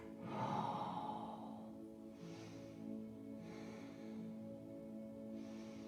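A slow, deep breath during a yoga stretch, a long exhale fading out over a steady tonal background, followed by quieter repeated breaths.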